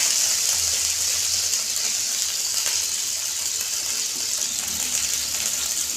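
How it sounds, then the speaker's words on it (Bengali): Water splashed onto a hot, oiled dosa pan gives a steady, fairly loud sizzling hiss that holds evenly for the whole stretch, with no voices. "টেম্পারেচারটা দেখার জন্য একটু জল ছড়িয়ে দেবো।"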